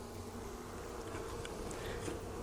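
Honey bees buzzing steadily during a hive inspection of a new colony, a dense close hum of many wings, quiet and continuous with no voices.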